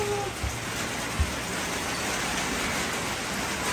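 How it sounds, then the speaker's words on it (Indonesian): Heavy rain pouring down outdoors as a dense, steady hiss with a couple of soft thumps near the start. "Hujannya lebat bang."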